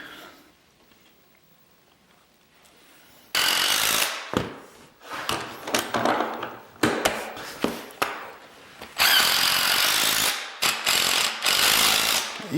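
Screws driven into slightly bowed cabinet molding on a classic step-back cabinet, a loud power-driver whir coming in repeated bursts with ratcheting clicks and short pauses, close by, after a quiet opening.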